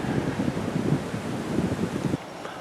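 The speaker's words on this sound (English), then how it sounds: "It is getting windy." Wind gusting steadily on a boat out on the water during a winter cruise from a marina, a continuous low rumble of buffeting that eases suddenly near the end.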